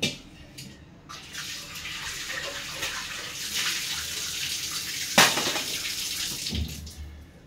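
Sorghum grains being washed in water, with steady pouring and sloshing water and a sharp splash near the end, close by.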